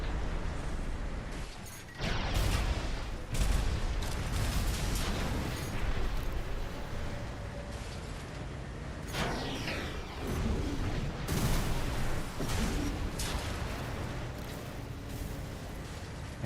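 Enemy artillery in the Armored Core VI: Fires of Rubicon video game keeps firing, with repeated heavy booms and blasts over a dense, loud stream of battle noise and mechanical rumble, with no talking.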